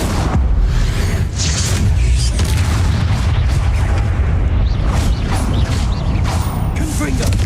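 Spell blasts from the video game Hogwarts Legacy boom and crackle in a loud, continuous barrage, with a voice calling out over the gameplay.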